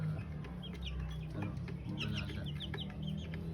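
Pet chickens cluck softly in a quick, scattered series of short calls over a low background hum, with no one talking.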